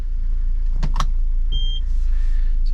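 A Volvo V70 being shifted into reverse, with a couple of sharp mechanical clunks followed by a brief whirring tone over a steady, close engine idle.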